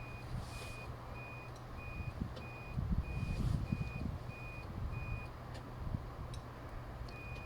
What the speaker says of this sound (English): you will be able to now hear the buzzer bleeping away lovely on the left indicator